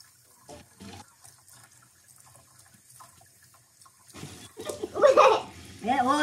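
Tap water running while dyed hair is rinsed at a sink, a soft steady splash under intermittent close talking that grows louder and more animated toward the end.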